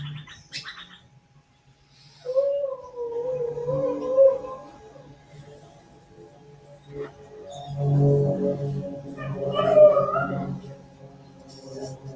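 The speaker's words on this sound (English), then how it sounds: "Is he out stirring up those dogs again" Dogs howl outdoors, with long, wavering, mournful tones rising and falling. Two separate bouts of moderate loudness are heard, and several voices overlap in the second.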